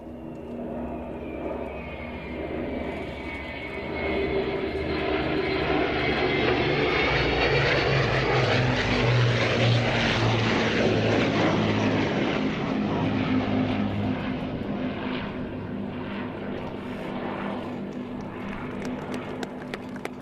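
Spitfire and Hurricane propeller fighters fly past at an air display. A loud, sustained piston-engine drone swells as they approach and fades as they go, with a falling pitch.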